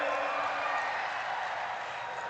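A large crowd at a political rally in Jodhpur applauds in a dense, even wash of clapping that holds steady and fairly distant throughout.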